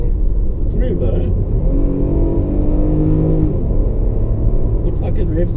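Engine of a 2016 Lexus RX revving while driving, a steady loud drone that climbs in pitch through the middle and settles back, heard from inside the car with voices talking over it.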